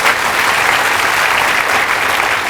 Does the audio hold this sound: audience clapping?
yes